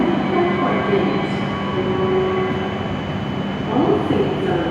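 Hokuriku Shinkansen train pulling into a platform at Kanazawa Station, a steady loud rumble and hum of the approaching train filling the whole stretch, with platform ambience around it.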